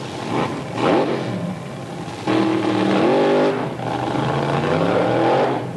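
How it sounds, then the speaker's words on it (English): A Chevrolet-powered drag racing car revs at the 1982 AHRA Grand American Series meet at U.S. 30 Dragway. The engine note climbs and falls in loud, rising sweeps, with a steady roar between bursts. "Beautiful machine, another Chevrolet powered car."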